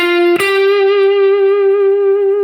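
A single sustained electric guitar note with a crunchy overdriven tone, struck once and ringing out steadily with a touch of reverb.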